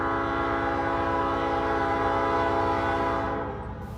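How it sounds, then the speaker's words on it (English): An empty coal train, number 777, passes close by and sounds a loud, sustained chord from its P5 horn over a heavy rolling rumble, easing off slightly at the end. "First out of the gate was this empty coal train, 777, running from Hyco, North Carolina to Shire Oaks, Pennsylvania"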